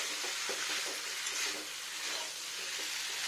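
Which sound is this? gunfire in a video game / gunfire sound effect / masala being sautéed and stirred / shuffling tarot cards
masala being sautéed and stirred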